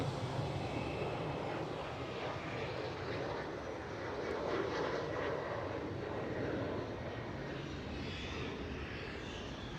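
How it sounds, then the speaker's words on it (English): A KLM Cityhopper Embraer E190 rotating on takeoff at Amsterdam Schiphol, its jet engines giving a steady, even broadband roar at moderate distance throughout, with no voices. "Well, another KLM Cityhopper E190 is rotating."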